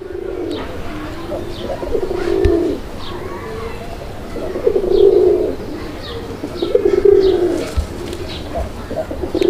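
A male pigeon coos repeatedly at a nearby female, three or four low, rolling coos close by, with faint chirps from other birds and someone talking in the background.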